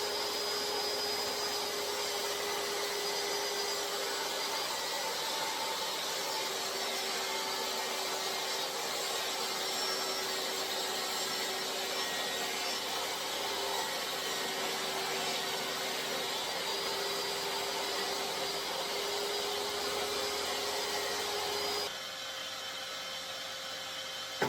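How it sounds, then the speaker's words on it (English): A saw cuts a 1200 by 600 mm sheet of 12 mm plywood in half, making a loud, steady whining rush that holds for over twenty seconds before dropping off abruptly near the end. "First I cut a 1200 by 600 12mm piece of plywood in half."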